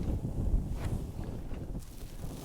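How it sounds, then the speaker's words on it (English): Wind gusts into a tarp shelter pitched on a craggy edge in Northumberland, a low rumbling buffet with faint flaps and rustles, steady and close. "See, the wind's really getting inside the tarp."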